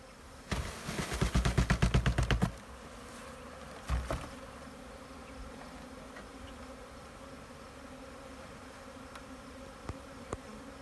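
A swarm of honeybees being shaken into a hive on a farm homestead gives a dense, rattling buzz for about two seconds, then a shorter burst, before settling into a faint, continuous hum.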